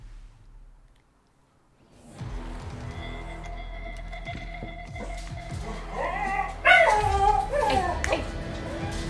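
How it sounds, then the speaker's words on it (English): After a brief silence a dog barks and yips excitedly, with whimpering and high whines, fairly close, over a faint steady hum. "My dog is going crazy because she can see that there's a bird probably in my backyard or a cat"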